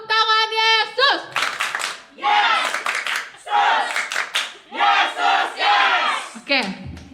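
Children at a Sunday school Christmas service clap their hands in energetic, rhythmic bursts with excited shouting and cheering, following a brief sung note at the start.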